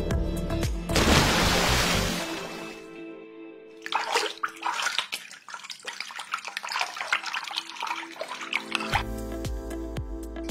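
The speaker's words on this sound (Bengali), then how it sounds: "এখন আমি মাংসগুলো ভালো করে ধুয়ে নিব" Goat meat, a kilogram cut into medium pieces, rinsed under running tap water in a sink, with a loud gushing stream first, then irregular splashing and handling of the wet meat up close.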